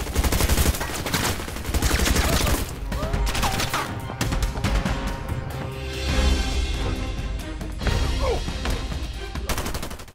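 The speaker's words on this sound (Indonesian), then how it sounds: "Tom yang udah berada di gubuk kuning duluan mengambil senjata otomatis yang disimpan Dido dan mengaktifkan senjata itu saat Dido terpojok oleh kelompok Sly" Automatic weapon gunfire in an action film robbery scene, loud rapid bursts of shots with crackling impacts and brief pauses, dense and close throughout.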